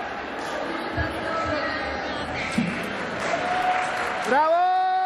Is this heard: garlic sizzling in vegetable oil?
no